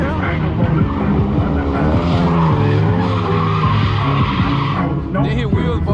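Car tires skidding and squealing in a street pit, a loud sustained screech with engine roar up close, shouted voices over it.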